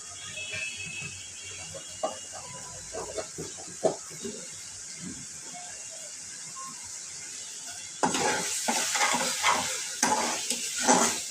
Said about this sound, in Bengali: মশলাটা আমি একটু কষাবো।